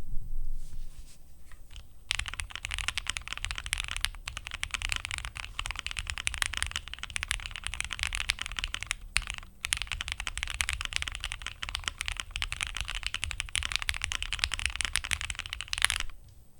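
Rapid, dense clacking typing on a plateless Thera75 mechanical keyboard with OP black switches, GMK Striker keycaps and Direct V2 stabilizers, close up and continuous for most of the span, with a louder thock near the end.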